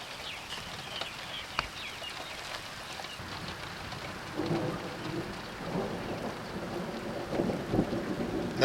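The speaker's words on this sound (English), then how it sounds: "Pity about this rain." Steady rain hisses during a thunderstorm near Appin, New South Wales, Australia, faint and continuous, with low thunder rumbling beneath it and no talking.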